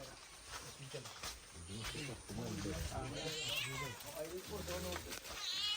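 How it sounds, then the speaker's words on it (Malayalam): A hungry cat cries with repeated plaintive meows, faint and somewhat distant, while a person talks over it in a disaster-stricken area of Wayanad. "ആ പൂച്ചക്കേ കുറച്ച് ബിസ്ക്കറ്റ് ഒന്ന് പൊളിച്ചിട്ട് കൊടുക്കും അത് കരയുന്നതാണല്ലേ"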